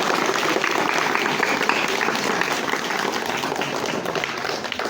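Schoolchildren clap loudly together in a continuous, energetic burst of applause that stays even across the whole stretch.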